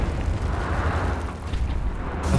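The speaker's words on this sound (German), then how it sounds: "Dann platzieren wir den Sprengsatz mal." An explosive charge detonates in the video game Wolfenstein: The New Order, a loud, sustained rumbling blast filling the whole moment.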